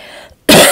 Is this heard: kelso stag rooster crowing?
no